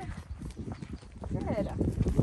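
A horse walking along on a riding lesson in Prescott, Arizona, its hooves clip-clopping in a steady rhythm, fairly close, under a person talking throughout.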